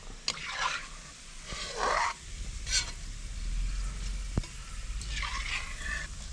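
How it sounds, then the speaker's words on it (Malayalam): Oil sizzles steadily in a pan as onions fry for Thalassery mutton biryani, with a few scraping stirs of a utensil and soft clatters; no voices. "സവാള വറുക്കുമ്പോൾ നമ്മൾ കൈയെടുക്കാതെ ഇളക്കിക്കൊണ്ടിരിക്കണം കേട്ടോ"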